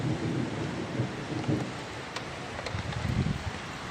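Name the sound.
rain and thunder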